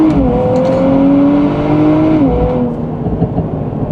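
A 2024 Nissan Z NISMO engine pulls hard under load, its loud, throaty drone climbing steadily in pitch, then dropping at a gear change and fading slightly as the pull eases.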